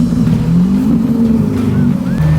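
Lamborghini Aventador supercar engine roaring loud and close, with a sustained, throaty growl that shifts pitch as it revs, with no talk over it.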